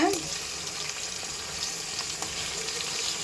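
Brinjal fries in oil for meen kulambu, giving a soft, steady sizzle with faint clinks of stirring throughout.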